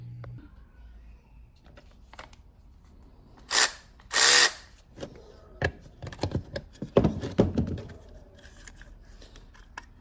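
A power drill backs two screws out of the dash bezel of a 1993 Chevrolet S10 pickup, with two short, loud whirring bursts followed by scattered clicks and handling noises.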